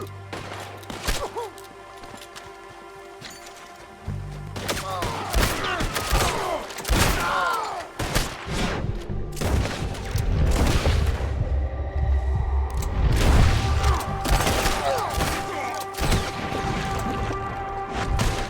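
Gunshots and impacts in a Red Dead Redemption 2 shootout at Fort Mercer: scattered sharp cracks and thuds, some bursting close together, over steady in-game ambience and low music.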